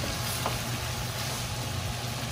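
Chow mein noodles with peas and carrots sizzle and crackle in hot oil in a wok as they are stir-fried, with a steady, fairly quiet frying hiss and the occasional scrape of a stir.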